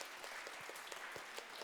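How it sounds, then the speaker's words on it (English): Faint, steady applause from a school assembly audience at a food forum, a soft continuous wash of many hands clapping at a distance. "So another round of applause."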